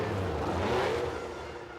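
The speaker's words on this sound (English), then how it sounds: "With the marshals waving a warning, the cars howled up the hill" 1978 Formula One cars howl up the hill from Sainte Devote toward the casino at Monaco, a loud engine roar that swells and passes, then eases slightly as it recedes.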